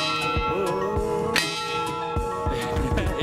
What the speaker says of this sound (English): any moment we're going to hear the bells strike for